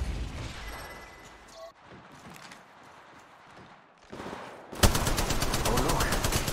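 Automatic weapons fire in the Apex Legends Mobile video game, with scattered distant shots and rumbles first, then a loud, rapid, sustained burst of close gunfire over the final seconds.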